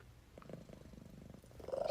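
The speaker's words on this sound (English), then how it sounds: "as you can hear the way she's breathing and purring." A sick stray cat purrs close up with raspy, labored breathing, a low rhythmic rumble that swells louder toward the end, with no talking.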